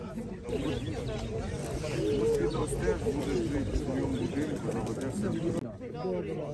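Pigeons cooing in soft repeated warbles amid a busy crowd at a pigeon and animal fair in Ukraine, with people talking nearby throughout.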